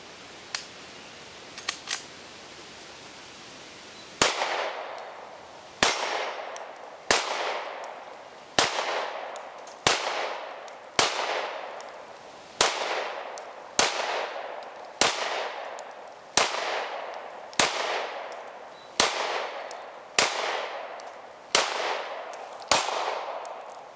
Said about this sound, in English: now I'm gonna shoot at the spread with the G3 and see if it can win me over